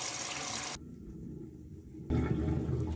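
Water rushing out of a sink drain pipe just cleared of a clog, a loud steady gush that drops briefly to a quieter trickle before surging back strongly.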